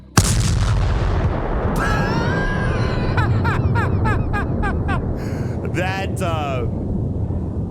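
Photon torpedo launch and explosion in a Star Trek space combat game: a sudden boom, then a warbling whine, a run of evenly spaced chirping pulses and a final sweeping electronic burst over a constant roaring rumble.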